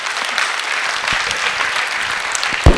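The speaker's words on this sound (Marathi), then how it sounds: "खरोखर स्वतःसाठी तुम्ही जोरदार टाळ्या वाजवायला पाहिजे" An audience claps loudly and steadily at a yoga talk, a continuous dense patter of many hands that runs throughout, with no voice over it.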